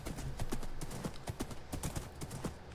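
Horse hooves clip-clop in a steady, close rhythm of sharp knocks in a hunting video game, running alone for under three seconds.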